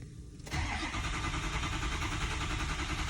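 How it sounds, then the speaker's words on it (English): A 2004 Ford F-350 with a 6.0L diesel and failing injectors cranks over; after brief quiet the starter and engine noise cut in abruptly and hold steady and loud to the end. "now we're going to go for a crank"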